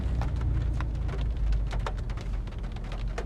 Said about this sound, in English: Rain's getting heavier.